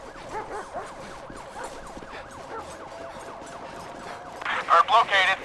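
A police K9 dog in Grand Theft Auto barks in a few quick bursts near the end, over a wailing emergency siren sweeping up and down through the whole stretch.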